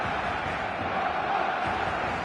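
Stadium crowd in a football video game, a dense steady roar of many voices without breaks, loud and filling the space.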